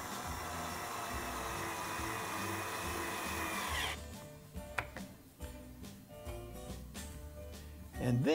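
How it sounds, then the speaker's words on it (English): A power drill drives screws into wood, with a steady motor whine giving way to short bursts of driving and stopping, close and fairly loud, ending with a brief squeak. "let's attach the other side with some screws."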